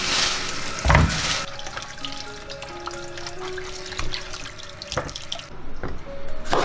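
Bitter melons being washed under a running kitchen tap, with steady water flow, splashing and light handling noises, plus a few knocks and a brief louder clatter near the start; no talking.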